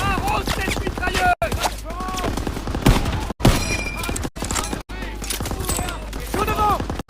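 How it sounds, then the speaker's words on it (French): Machine gun fire in the World War II shooter Call of Duty WW2: loud, rapid bursts with cracks and thuds, broken by brief gaps, under shouted voices and battle noise. "Arrose cette mitrailleuse!"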